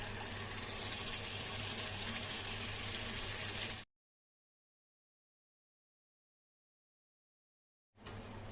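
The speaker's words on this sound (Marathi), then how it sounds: "आता यामध्ये हेच पाणी थोडंसं ओतायचं आहे।" Hot water poured into a cooking pot of stuffed brinjal makes a steady gushing stream for a few seconds, then stops dead before briefly resuming.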